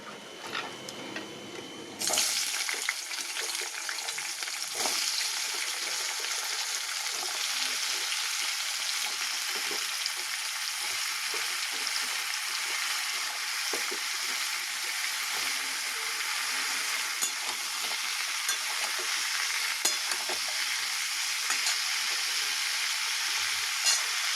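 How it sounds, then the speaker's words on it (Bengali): Flat beans, eggplant, potato and pumpkin hit a hot pan with a sudden loud sizzle, then keep frying in a steady dense crackle with occasional stirring scrapes, and no voices. "এবার সবজিগুলো দিয়ে দিচ্ছি সবজির মধ্যে আছে ছিম বেগুন আলু কুমড়ো"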